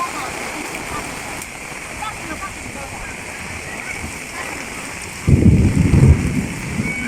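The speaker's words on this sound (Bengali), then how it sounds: "এখন আবার বৃষ্টি আবার মাঝে মাঝে বিদ্যুৎও চমকাইতেছে যে আকাশে প্রচণ্ড বিদ্যুৎ উঠছে" Rain falls on an open rooftop as a steady wash, with a heavier burst of low rumble near the end that could be distant thunder or a surge in the downpour; voices are faintly present.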